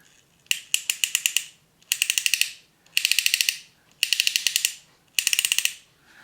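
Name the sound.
toy motorcycle mechanism clicking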